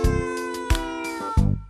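A cat meows repeatedly, four loud, close, drawn-out cries in quick succession with a strained, caterwauling edge.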